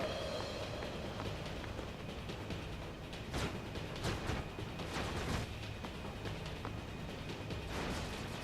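A train rumbles in Final Fantasy X, a quiet, continuous mechanical roar. A few sharper bursts, like impacts or blasts, break through partway along.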